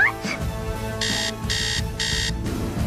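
An alarm clock sounds three evenly spaced electronic beeps, each lasting about a third of a second, clear and close over a low background hum.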